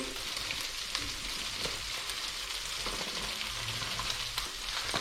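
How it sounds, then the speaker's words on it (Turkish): Peppers roast in a frying pan, giving a steady, moderately quiet hiss of sizzling oil with faint crackles throughout and no talking over it. "Birazcık biberimiz de kavrulsun."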